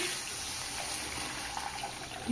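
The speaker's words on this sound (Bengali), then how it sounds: "জল দিয়ে দিচ্ছি" Water pours steadily into a pot of egg and potato curry, a continuous soft splashing rush lasting a couple of seconds.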